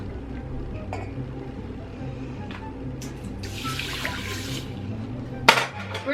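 A cup of water pours into quinoa in a pot with a soft, splashy rush lasting a couple of seconds over a low background drone, followed by a light clunk.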